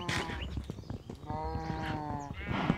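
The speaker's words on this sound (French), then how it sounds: "sont en train de se régaler les vaches, vous les entendez" Cows in a modded Minecraft 1.16.5 survival world on Luscious Island, munching and lowing in repeated bleat-like calls with soft clip-clop-like thuds, fairly quiet and close.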